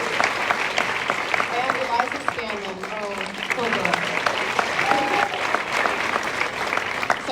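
An audience applauds the cast of Little Women at a Q&A with a steady roar of clapping, while someone speaks over it into a microphone.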